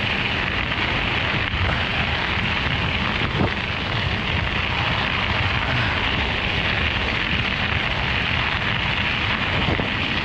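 Steady, loud wind roar buffets the microphone throughout while riding a Bafang BBS02-powered Specialized e-bike into a headwind on a bike path along Old Highway 69, with no talking.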